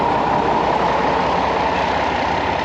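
Dump truck's diesel engine idling close by at a dirt pit beside an excavator, a steady, dense low rumble that holds unchanged for the whole stretch.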